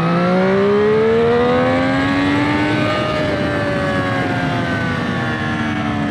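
A Triumph Street Triple RS 765 motorcycle pulls hard in second gear, its engine note rising steadily in pitch as it accelerates, loud and close with wind rush and no talking.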